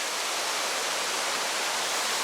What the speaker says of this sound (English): How amazing would it be to live right next to this gushing creek?